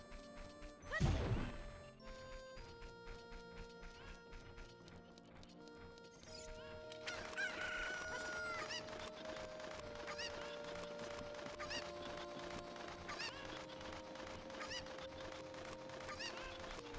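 Cucco chickens from the video game Ocarina of Time, heard over game music with a sharp crash near the start followed by repeated honking, clucking squawks layered with the ongoing melody.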